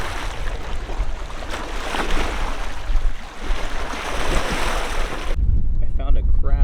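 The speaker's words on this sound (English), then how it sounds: "It's pretty windy." Strong wind off Lake Michigan roars and buffets the microphone steadily on the shore, with a loud rumbling gust near the end.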